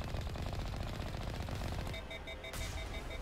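Rapid automatic weapon fire in a Mass Effect Legendary Edition battle against a Geth Colossus, a dense continuous burst of shots running throughout, with a brief lull and high beeping tones near the end before firing resumes.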